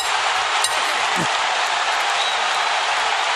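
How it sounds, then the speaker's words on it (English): Boxing arena crowd roaring at the end of a round in a Crawford–Gamboa fight, a sustained dense wash of cheering and applause with a brief thump partway through. "Listen to the crowd."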